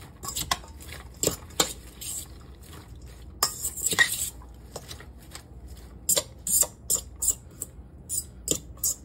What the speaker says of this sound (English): you want to mix this up to get the lime juice spread around on all of the slaw